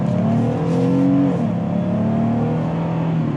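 A 2020 Jeep Gladiator with a 285-horsepower engine revs loudly during a test drive, its engine note climbing and settling in a steady, close drone heard from inside the cabin.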